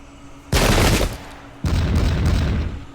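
Massed musket volleys from troops in the historical battle game Pike and Shot crackle as two long, loud fusillades, the first lasting about half a second, the second rolling on for over a second with dense overlapping shots.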